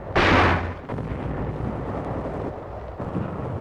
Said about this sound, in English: Our troops employ a captured Jap knee mortar.